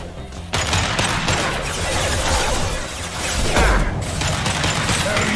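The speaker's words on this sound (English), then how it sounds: "Firing an impact shot!" Impact shot weapon fired in Mass Effect 2, a dense, loud crackling burst of rapid impacts and crashes that keeps up almost without a break.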